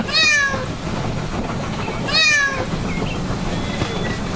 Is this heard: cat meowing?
yes